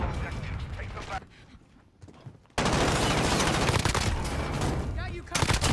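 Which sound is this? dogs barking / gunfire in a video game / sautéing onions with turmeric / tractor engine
gunfire in a video game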